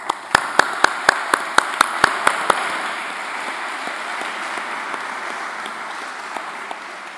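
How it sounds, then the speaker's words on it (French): A conference audience at a botanical symposium applauds to thank volunteers; a few sharp, evenly spaced claps lead in before the sound spreads into a softer, sustained round of clapping that gradually thins out. "je vais juste vous demander de les applaudir pour les remercier pour ce travail"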